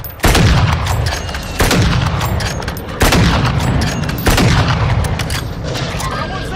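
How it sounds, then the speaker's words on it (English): Four heavy sniper rifle shots boom out in Call of Duty, spaced about one and a half seconds apart, each a sharp loud crack with a long rumbling tail that overlaps the next. "Somebody sniping."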